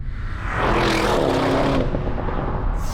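Exhaust roar of an Audi RS6 GT wagon on the move, a loud engine note that swells quickly to full volume, holds, then eases slightly toward the end.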